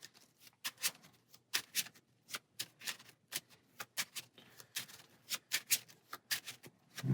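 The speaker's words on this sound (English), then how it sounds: "Heroic Strike, gain an encounter card and do some shuffling." Cards for the Marvel Champions card game being shuffled by hand, a run of crisp riffling bursts in quick irregular succession, close and fairly quiet, with no talking.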